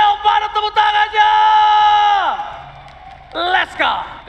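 Crowd at an MPL playoff esports event lets out a sustained loud cheer and roar, falling away and then rising again in shorter bursts of yelling.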